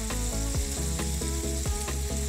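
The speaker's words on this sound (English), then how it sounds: "it's time to flip our burgers over and we'll cook those for another 6 to 7 minutes on this side" Cheddar turkey burgers fry in a pan with a steady, close sizzle throughout, broken by a few soft clicks and shifts; there is no talk.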